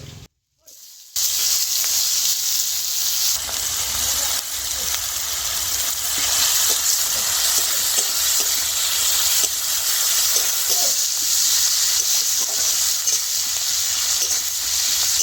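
Chopped onion frying in butter with whole garam masala and bay leaf for chicken stew, a loud continuous sizzle with crackles and stirring scrapes after a short quiet start.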